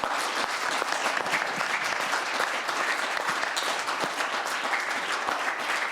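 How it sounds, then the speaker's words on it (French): Audience at an anniversary conference applauding, dense continuous clapping from a sizable crowd held evenly for several seconds. "On va vous applaudir."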